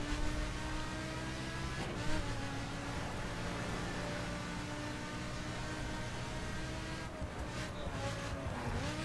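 A Lamborghini Huracan LP610-4 in The Crew racing game runs with a steady engine drone and tire noise, its tires smoking as it slides; a brief squeal rises near the end, with no talk over it.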